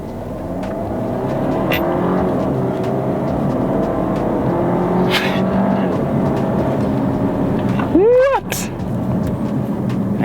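An Audi A5 Quattro accelerating hard in sport mode with traction control off, heard from inside the cabin as a steady, loud engine and road drone, with a brief rising whine near the end; people talk over it.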